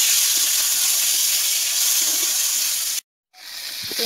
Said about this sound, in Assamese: এতিয়া ইয়াত পদিনা আৰু মানধনিয়া পাতখিনি দি দিয়া হৈছে সেইখিনি অলপ সময় ভাজি ল'ম